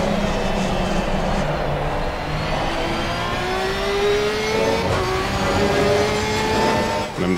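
Race car engine in Assetto Corsa Competizione on the Valencia circuit drones loudly and steadily, its pitch climbing as it accelerates through the gears, with tyre and road noise underneath and no talking.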